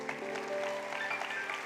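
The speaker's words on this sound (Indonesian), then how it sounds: "tepuk tangan ya." Church congregation applauding during a sermon, a brief soft roll of clapping with voices and a sustained tone beneath.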